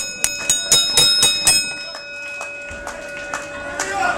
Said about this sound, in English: The bell sounds